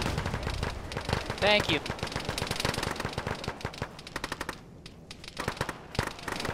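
Rapid bursts of automatic gunfire crackle in an Arma military simulation, loud and close with repeated rattling volleys, while players talk over the radio.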